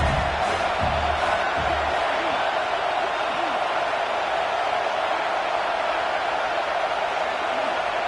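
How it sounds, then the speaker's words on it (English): Football stadium crowd cheering on the defense before a big third down, a dense continuous roar of voices filling the whole stretch, loud and steady. "Big 3rd down as the crowd gets behind this defense"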